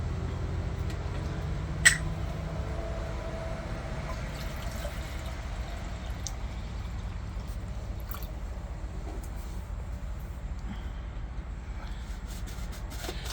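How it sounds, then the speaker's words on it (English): Water being poured into a Jetboil pan, a soft trickling and dripping close by, with a single sharp clink early on and low steady background noise. "Get some water put inside your pan."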